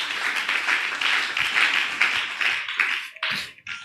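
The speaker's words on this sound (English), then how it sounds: "Somebody clap your hand together." A church congregation claps hands in rhythmic bursts during a ministers retreat sermon, loud, close and repeated, fading toward the end.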